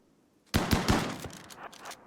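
A quick burst of combat shotgun fire in RimWorld, a few sharp close reports in rapid succession followed by a fading tail of smaller shots.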